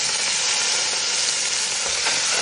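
Chicken pieces fry in a pan of hot oil with chopped onion, giving off a loud, dense, steady sizzle that runs without a break and with no talking.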